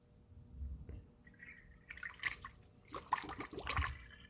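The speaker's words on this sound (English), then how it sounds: "Now go ahead then and pour in the coolant." Coolant poured into the cooling system of a 2013 Dodge Grand Caravan after a heater core hose replacement, with faint burbling and gurgling followed by several louder splashy glugs, no talking.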